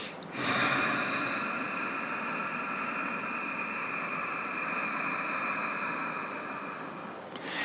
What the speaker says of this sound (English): nasal breathing in for 5 to 6 seconds, hold for 4, and breathing out slower for 6 seconds through the nose